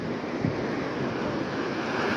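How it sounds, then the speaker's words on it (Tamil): Strong wind buffets the microphone at Preethipura beach, a loud, continuous broadband roar with surf mixed in and no let-up. "கொஞ்சம் காற்றா இருக்குது"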